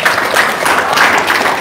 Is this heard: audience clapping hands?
yes